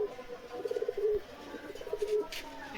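Madras pigeons give two short, quiet, rolling coos a second apart, heard up close against soft background noise.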